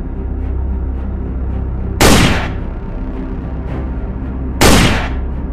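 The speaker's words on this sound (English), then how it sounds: "With a single shot from his long gun, Champlain showcased the power of firearms," Two loud, sharp reports from a long gun, about two and a half seconds apart, each cracking out over a steady low background rumble and trailing off in a short echo.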